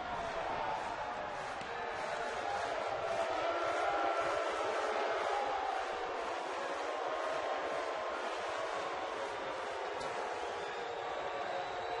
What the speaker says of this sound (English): Crowd booing the Met fan who came away with the ball.